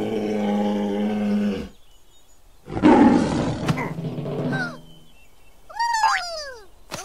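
A bear roars in a forest, several loud separate growling bursts with short silences between them, close and alone without any voices.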